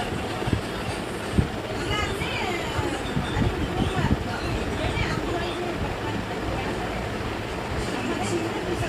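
A passenger express train in an Indian railway simulator game rumbles past with a steady, loud, continuous roll and faint wheel clatter, a busy station-like murmur underneath throughout.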